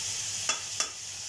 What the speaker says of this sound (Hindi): लो टू मीडियम फ्लेम पे मसाले को अच्छे से भूनूंगी।